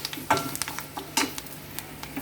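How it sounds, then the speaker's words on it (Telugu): Asafoetida and tempering spices fry in a pan for peanut chutney, with a quiet background sizzle and a few distinct utensil scrapes and taps as the mixture is stirred, heard close with no speech. "పోపు అనేది బాగా వేగాలి"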